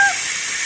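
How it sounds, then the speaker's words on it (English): Steam hissing from a pot while a keto roast with mushrooms and radish cooks, heard as a steady, loud, broad hiss after a brief tonal beep at the start. "Steam."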